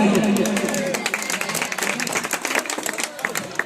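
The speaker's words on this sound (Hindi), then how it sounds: "इनके लिए खूब तालियां बजाइए" A crowd at a political party joining event in Okhla claps for new members, with scattered, uneven hand claps running throughout under a loud speaking voice.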